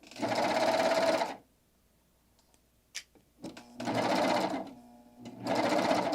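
A Baby Lock serger sews fabric in three loud, close, steady runs of rapid whirring stitching, with quiet pauses and light handling clicks between them.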